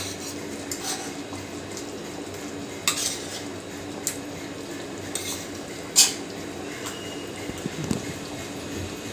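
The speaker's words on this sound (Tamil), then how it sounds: "இப்போ இந்த முட்டையை கொஞ்சம் மாற்றி போட்டுக்கோங்க." Eggs are flipped in a pan of simmering egg curry, with faint stirring, scattered spoon and pan clinks over a soft, continuous bubbling sizzle.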